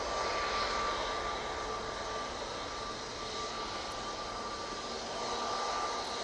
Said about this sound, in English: TUI 737 MAX 8. Now I'm powering out of Manchester.